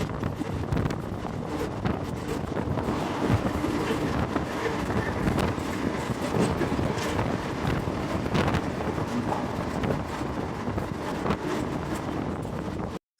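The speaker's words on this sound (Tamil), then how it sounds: "ட்ரெயின் போற சவுண்ட் கூட கேட்கற அளவு பார்த்தா அவ்வளவு தூரத்துல இருக்குங்க" A continuous rumbling passenger train roar on a double line between Salem and Erode, with clattering wheels and gusty wind buffeting the microphone, steady throughout before cutting off abruptly.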